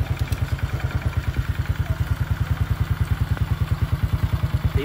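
A Honda XRM110-type motorcycle engine idles steadily after a full-wave electrical conversion, a close, even, rapid thumping exhaust pulse with light mechanical clatter and no warm-up needed.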